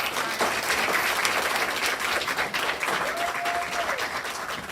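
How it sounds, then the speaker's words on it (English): Audience applause at a National Honor Society induction ceremony: a full, sustained round of clapping from a crowd, loud and even throughout, with a brief whistle-like tone partway through. "Let's give them all another round of applause."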